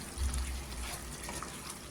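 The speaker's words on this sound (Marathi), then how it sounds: "मी इथे कमी पाणी टाकलंय" Water pours steadily into a pot of curry for a couple of seconds, a continuous splashing rush.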